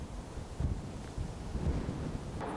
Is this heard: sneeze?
no